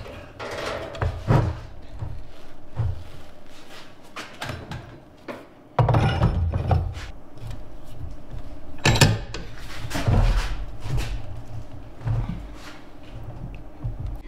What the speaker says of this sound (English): Let me try to turn the vise.